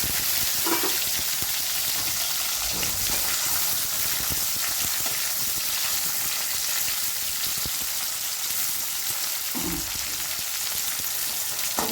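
Onions and tomatoes fry in a pan for a Tamil-style chicken gravy, with a steady loud sizzle and crackle throughout and a few soft stirring bumps.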